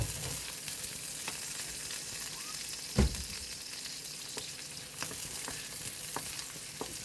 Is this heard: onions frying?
yes